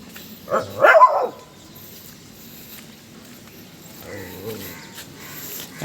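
A dog gives a short burst of loud barks early on while chasing a cat, then quiets while faint background noise and distant movement continue.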